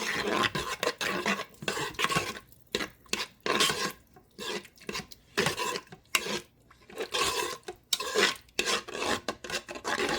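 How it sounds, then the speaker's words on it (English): A spoon scrapes and stirs through beans and liquid in a pot for arroz con gandules, a close, rasping, rhythmic churning in repeated strokes with brief pauses between. "Give that a stir"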